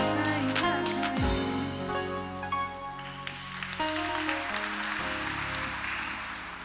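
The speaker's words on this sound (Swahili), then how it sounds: "Tuwapigie makofi tena." A church congregation at a Sunday Kikuyu service claps, and a broad wash of applause builds under sustained keyboard-like music tones, then carries on as a dense, even clatter.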